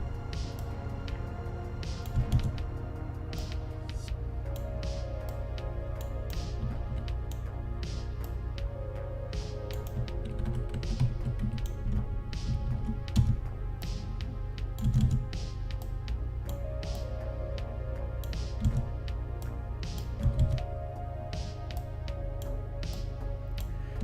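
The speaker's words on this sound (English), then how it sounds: "Can you hear my keyboard louder than the music, or vice versa?" Steady clicking of a computer keyboard over looping background music, keystrokes coming in irregular bursts and pauses throughout, fairly quiet and close, with no voices.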